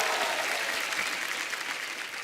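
Steady, dense clapping from a large TV studio audience on The Kapil Sharma Show, continuous and fairly loud throughout with no pauses.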